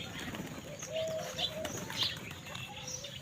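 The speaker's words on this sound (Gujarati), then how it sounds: "આ જો આ દેશી કબૂતર આવ્યો" A desi pigeon coos softly nearby, its low calls falling into a loose rhythm, with faint chirps and quiet ambient noise around it.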